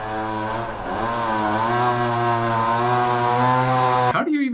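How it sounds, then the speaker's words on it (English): A chainsaw hums steadily in a redwood forest, its loud, even motor drone holding a near-constant pitch, dipping briefly once, then cutting off abruptly at the end. "we listen to a chainsaw humming"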